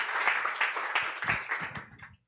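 Audience in a Portuguese-language church talk gives a round of applause, a dense, lively patter of many hands that keeps up steadily, then quickly tapers off and stops near the end.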